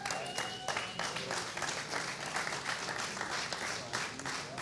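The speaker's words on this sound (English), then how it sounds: "Big round of applause from these guys." An audience at a craft beer panel event in Tampa applauds the guest brewers, a moderately loud burst of mixed clapping that holds steady for several seconds, with some voices underneath.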